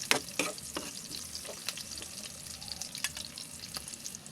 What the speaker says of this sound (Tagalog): Kunting halo-halo lang yan mga badi kasi mainit tong kalahan natin.